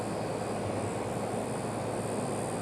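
Steady broadband engine roar of a Southwest Airlines airliner passing overhead near a swamp, a continuous distant drone with no breaks or voices over the short span.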